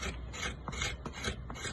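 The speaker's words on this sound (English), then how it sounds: "When you feel a scrape like that, so when you feel it a grate like this, you go against the grain." A blade scrapes along the wood grain of a bow being shaped. The rough, rasping strokes come in a steady back-and-forth rhythm, close and moderately loud.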